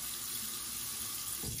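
Tap water running into a sink, a steady continuous hiss of flowing water, close and even throughout with no talking.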